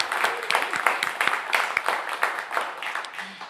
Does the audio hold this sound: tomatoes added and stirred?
no